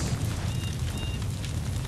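Explosion in the video game God of War, a dense sustained roar with deep low rumble filling the whole stretch, steady and loud with no talk over it.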